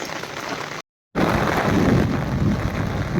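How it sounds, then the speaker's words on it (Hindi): Steady rain hisses down onto the ground, cut by a brief moment of silence before the downpour resumes. "बारिश की बूंदें गिर रही हैं ज़मीन पर"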